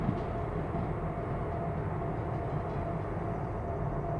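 A train running in the railway simulator Derail Valley during a heavy haul from a steel mill: a constant, loud, low rumbling roll of wheels and engine, steady throughout with no pauses.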